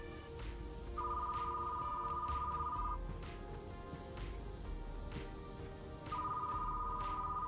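Telephone in a retro-styled video game ringing in two long electronic bursts several seconds apart, alone over a low rumbling ambient background with no talking.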